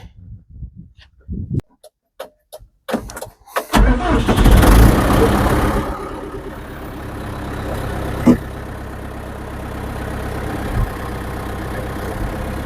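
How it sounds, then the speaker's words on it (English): A few scattered clicks and knocks, then an old small tractor's engine cranks and catches, settling into a steady, rumbling idle close by. "This is a pretty decent little tractor."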